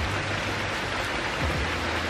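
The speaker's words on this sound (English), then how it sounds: "It is rainy season in Northern California." Rain falls into puddles in Northern California during the rainy season, a dense steady hiss of drops, loud and continuous throughout with no voices.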